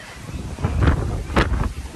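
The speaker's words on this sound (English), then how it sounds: "Wow, it's windy out here." Wind gusting outdoors at an amusement park, a steady low rumble of buffeting against the microphone with two stronger gusts swelling near the end.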